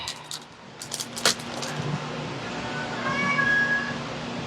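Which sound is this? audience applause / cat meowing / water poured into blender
cat meowing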